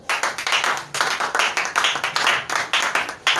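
Church congregation clapping in rhythmic unison during a French-language worship service, steady fast claps close and loud, with brief pauses between bursts.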